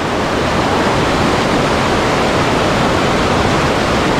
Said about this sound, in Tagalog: ito tayo sa Mother Falls.